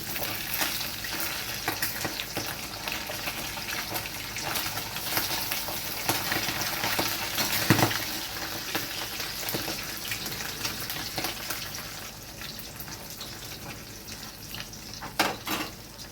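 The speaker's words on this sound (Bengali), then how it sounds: "মাছগুলো যতক্ষণ ভাজা হচ্ছে" Continuous crackling sizzle of fish pieces frying in oil, close and even, with a few sharper pops and no voices.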